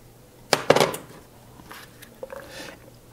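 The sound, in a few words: green and red peppers added to olive oil in hot pan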